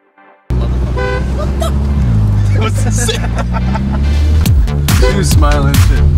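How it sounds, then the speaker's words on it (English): A car horn honks in traffic, with loud repeated toots over engine noise and background voices. "just honks if anyone just crosses his path"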